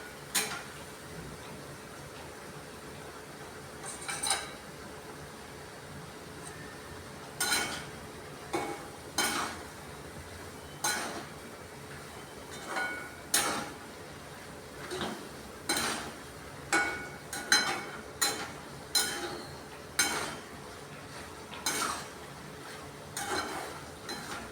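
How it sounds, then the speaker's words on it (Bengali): Mustard-based spice paste fries in a pan while a spoon scrapes and clacks against the metal in irregular, repeated strokes over a faint, steady sizzle; no one talks. "এই মশলাটা একটু ভাজা ভাজা হয়ে যখন একটু তেল ছাড়তে আরম্ভ করবে"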